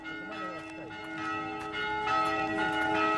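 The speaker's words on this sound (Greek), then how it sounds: "Οι καμπάνες καλούν τους πάντες στην εκκλησία." Church bells ring before Easter in the Sami town of Kautokeino, sounding as loud overlapping peals with long sustained tones that fill the whole stretch.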